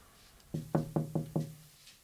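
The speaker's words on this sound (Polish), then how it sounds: "usłyszała pukanie do okna" Five sharp knocks on a window glass in a quick, even rhythm, close and clear with nothing else around them.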